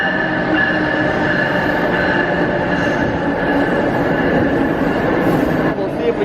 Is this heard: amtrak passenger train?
yes